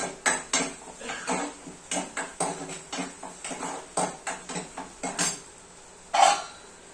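A metal spoon mashes spinach dal in a pot with a quick run of close clinks and scrapes, finished by one louder knock near the end.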